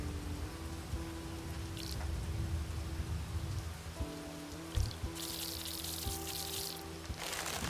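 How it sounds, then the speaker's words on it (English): Rain pours steadily in the video game Overland, a dense hiss of falling drops with a few brighter gusts and soft knocks layered over a low ambient drone. "Ooh, and now with the rain."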